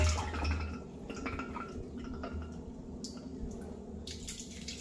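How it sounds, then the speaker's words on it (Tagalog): Water drips slowly from a reconnected pipe or tap, faint, irregular drops over a low, steady background hum. "Tumutulo. Oh, nakadugtong na nga yan."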